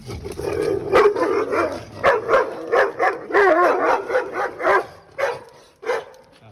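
A Doberman barks repeatedly at another dog, loud close barks and yips in an irregular burst-like rhythm with whining between them.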